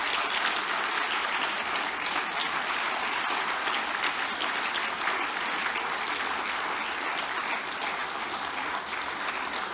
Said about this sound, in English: Please, a big round of applause for these standing orders.